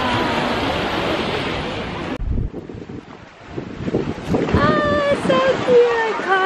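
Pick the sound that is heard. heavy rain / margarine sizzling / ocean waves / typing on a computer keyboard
ocean waves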